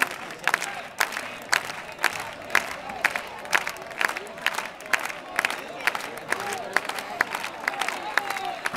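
Rhythmic group clapping in steady time from a crowd at a final, with cheering voices mixed in throughout.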